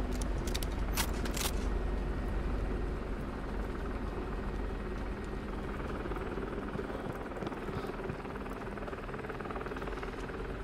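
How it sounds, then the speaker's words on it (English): A helicopter in the game Firewall VR thrums as a steady low rotor drone, moderately faint and continuous, with a few brief clicks near the start. "Why do I hear a helicopter?"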